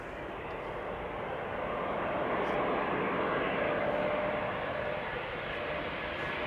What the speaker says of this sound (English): And the A340-600 passing by west of us.